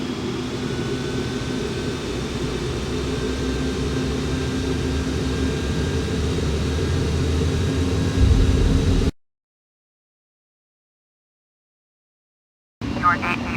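A heavy jet airliner's engines roar steadily on the runway during takeoff, a constant broadband rumble with a faint whine, ending abruptly in silence before a brief burst of sound.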